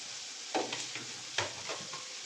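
Tomatoes and two chilies fry in a hot pan while being stirred, a steady sizzle broken by two sharper scraping stirs near the start and middle, close and clear with no talking.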